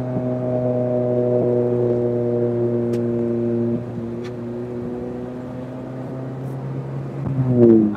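A K-swapped 1982 Lancia Beta Zagato Stradale drives along winding roads, its engine a steady loud drone that eases off midway, then rises sharply in a rev near the end.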